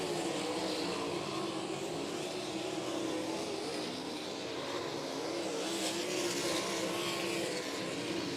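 Race cars roar around a dirt oval at Crystal Motor Speedway during a Michigan sprint series A-main feature, a steady loud engine drone with cars sweeping past amid slower lapped traffic, no voices.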